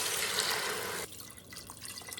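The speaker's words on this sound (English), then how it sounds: "we're just going to add enough water to just barely cover the chicken" Water running from a tap into a cooking pot of chicken in a sauce mixture during kitchen meal prep, a steady loud splashing stream that stops abruptly, leaving softer dripping and sloshing.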